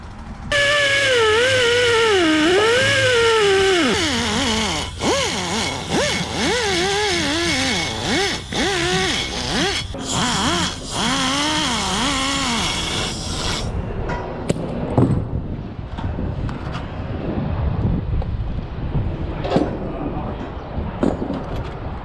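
A rotary tool whines at high speed, its pitch wavering as it grinds against metal while porting an engine, then stops, leaving quieter clatter and handling noises.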